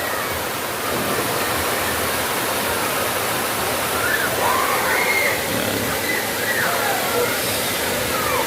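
Balongbong Falls in Bato, Catanduanes roars as a steady, broadband rush of falling water, close and constant for the whole stretch with no clear speech over it.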